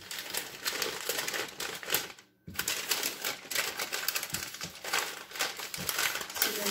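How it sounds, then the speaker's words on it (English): Paper crinkles and crackles while rolling old-fashioned date roll candy, a dense run of close, crisp rustling with a brief pause partway through before the crumpling resumes. "So you can just take the paper and start shaping it into a roll."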